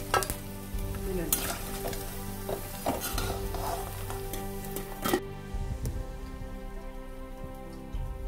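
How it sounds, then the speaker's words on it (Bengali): Cauliflower pakoras fry in hot oil with a dense, continuous sizzle, broken by a few sharp clatters from stirring; the sizzle thins and softens near the end. "পকোড়াগুলো সুন্দর ভাজা হয়ে গেছে"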